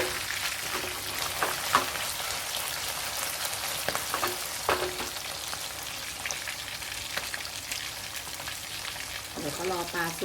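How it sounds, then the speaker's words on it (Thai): Fish frying in hot oil until golden and crispy, a dense continuous sizzle with scattered crackles and pops and occasional stirring, close up, with a brief burst of bubbling near the end. "เราก็ทอดเขาให้เหลืองกรอบแบบนี้เลยนะคะ"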